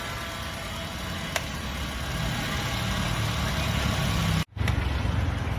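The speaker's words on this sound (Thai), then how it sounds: "เครื่องนะนิ่งแล้วฮะคันนี้" A Nissan Tiida engine idles smoothly and steadily with a low, even rumble, a brief click and a short dropout near the end.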